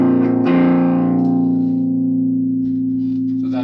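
A FuzzImp Shroot 2 fuzz pedal played through an Orange amp with its volume at noon rings out a thick, saturated guitar chord that is struck once and then sustains, buzzing and slowly decaying for several seconds.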